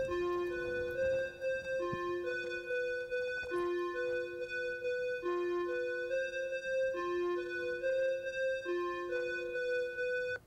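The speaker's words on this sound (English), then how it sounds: "that sound is called a gliding square" A Korg Triton rack synthesizer plays a gliding square patch, a repeating pattern of hollow, buzzy tones that slide between pitches, fairly quiet and steady throughout.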